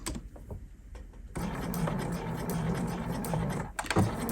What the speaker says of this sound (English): now I'm going to reverse stitch 3 times